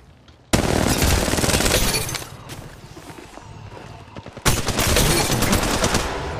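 Gunfire in the mobile shooter Apex Legends Mobile, two long loud bursts of rapid automatic fire separated by a short lull, close and dominant with no one talking.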